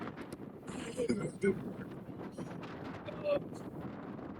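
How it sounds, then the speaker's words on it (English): Gusty wind buffets the microphone with low rumbling bursts on open land in Wyoming, while faint sounds drift in the background. "That's windy."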